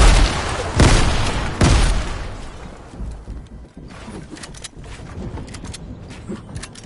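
Grenade explosions in a video game, a loud boom near the start followed by a second heavy blast, then fainter scattered impacts and rumble trailing off.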